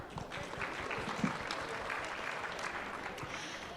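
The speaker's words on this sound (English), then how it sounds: "can we cheers for ourselves? Round of applause." Applause from a conference audience at a session on closing the pay gap, steady and moderately distant, filling the whole stretch with a dense patter of claps.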